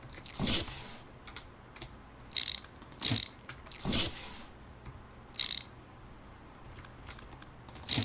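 Conveyor belt machinery in the video game Parcel Simulator, heard as a steady low mechanical hum with sharp rattling clicks and clattering bursts at irregular intervals, some loud and close, others brief and lighter.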